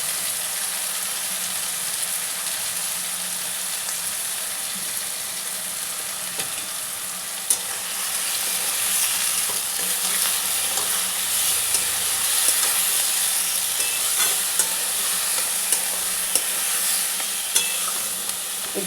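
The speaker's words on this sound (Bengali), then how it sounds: "এবার এই মশলাটা আমি এতে মিলিয়ে দিলাম।" Spices, coriander leaves and a splash of water being stirred into food frying in a pan for a Bengali dish, a steady close sizzle and hiss throughout with occasional soft scrapes of the spoon, no talking.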